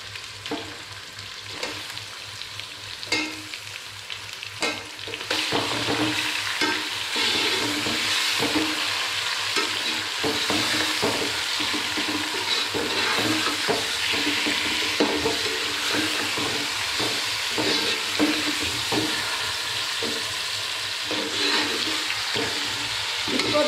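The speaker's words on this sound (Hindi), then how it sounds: "जब तक गोश्त फ्राई होगा, जो अदरक लहसुन है वो भी अच्छी तरह फ्राई हो जाएगा" About 1.5 kg of meat sizzles in a pot with ginger and garlic for biryani, a loud, continuous hiss of frying carrying on throughout, broken by the scrape and clatter of stirring.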